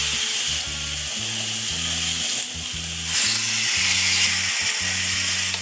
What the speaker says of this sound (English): Then put the salmon steak in.